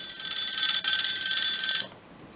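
A loud, steady electronic alarm clock tone from a Siemens M65 mobile phone lasts nearly two seconds, then cuts off and leaves quiet background.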